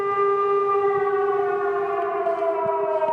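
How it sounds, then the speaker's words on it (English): An air raid siren in Ukraine wails steadily and loudly, its tone holding and slowly sliding slightly downward, with no voices. "An air siren means we need to go to the shelter"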